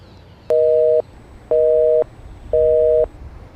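Three evenly spaced busy-signal beeps on a phone call, each about half a second long with equal gaps, clear and steady over a faint line hiss.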